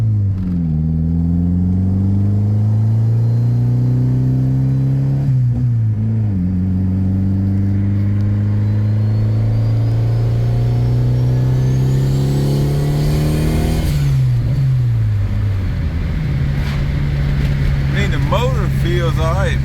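Turbocharged Honda car engine revving under acceleration, its rising and falling engine note steady and close throughout, with brief dips as the throttle eases and someone talking over it.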